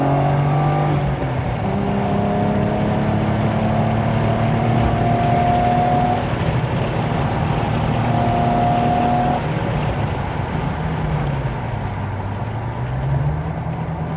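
A BMW E36 street-legal car drives on a road test, its engine droning loud and steady from inside the cabin, revs rising and falling through gear changes over constant road rumble.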